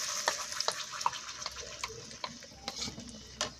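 Raw mango mixture poured into hot oil with asafoetida in a pan on a gas stove, giving a faint, steady sizzle and wet splashing with scattered light clinks, heard alone.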